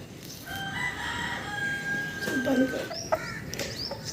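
A rooster crows at a Pakistani household, calling hens to leftover rice scattered on the ground. One drawn-out, quavering crow sits at moderate distance over steady background noise, with a few short clucks near the end.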